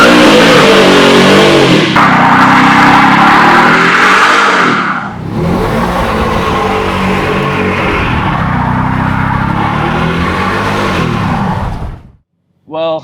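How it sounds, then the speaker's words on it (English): A car doing burnouts, its engine revving hard and loud for about twelve seconds with rising and falling revs, the roar dipping briefly midway before cutting out near the end. "There's nothing more fun than burnouts."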